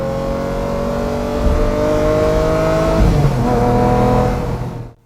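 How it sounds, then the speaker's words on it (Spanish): A Lamborghini pulls hard in a loud, close engine howl that climbs in pitch, drops sharply at a gear change around the middle, climbs again, then cuts off abruptly at the end, with no talk. "El único problema de la aceleración es que queda un poco arruinada por esos cambios de marcha"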